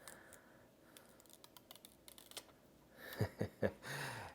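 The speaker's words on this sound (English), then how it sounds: "in the back you have the screen, which is, this is a sticker. Let's remove that sticker." A faint protective film is peeled off the rear screen of a GoPro Hero 8 Black. Quiet handling rustles lead into a few close crinkling tugs near the end.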